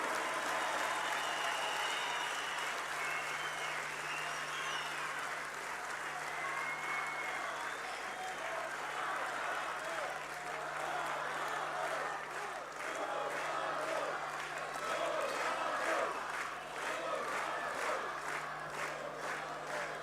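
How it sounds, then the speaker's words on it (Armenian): A crowd at a birthday gathering breaks into loud, sustained applause that fills the room for the whole stretch, dense clapping with scattered shouts and voices mixed in. "Բուռն ծափահարություններով։"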